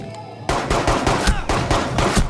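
Rapid bursts of gunfire in Rainbow Six Siege ring out after a brief quiet, sharp repeated shots hitting a jukebox disc, loud and close with no talking during the volley.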